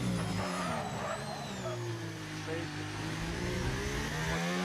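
Formula 1 car engine from the F1 25 video game at the USA Grand Prix at COTA, a loud, continuous high-pitched whine as the car accelerates down the back straight with DRS open.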